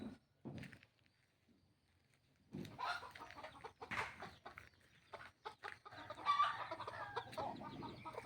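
A chicken clucks softly and repeatedly nearby, with irregular bursts of clucking and faint rustling, louder in the second half.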